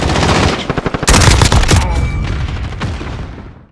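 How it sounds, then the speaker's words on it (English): MP5 submachine gun fired in Call of Duty Modern Warfare: a loud close burst of rapid shots, then a heavier crack of fire that rings out and fades into reverberating tail, no talking. "the MP5 is a submachine gun that is considered the best SMG by the players"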